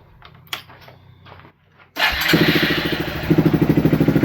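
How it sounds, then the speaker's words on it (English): A motorcycle engine with a new exhaust fires up after a second or two of quiet handling noises, then settles into a loud, steady, throaty idle with a pulsing exhaust note. "we're gonna see how loud it is"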